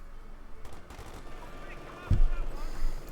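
Gunfire from a Company of Heroes 2 battle, scattered rifle and machine-gun shots crackling in the distance with a louder burst near the end, under a commentator's voice.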